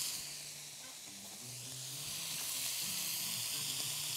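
Meat sizzles in a hot pan as pepper goes in, frying for a stew with onion. A steady, close frying hiss runs throughout with no talking.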